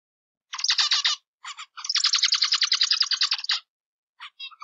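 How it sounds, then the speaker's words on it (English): A zebra finch gives rapid buzzy chirps in short bursts, then one long run of calls and a few brief notes at the end, clear and close against silence. "Z for zebra finch."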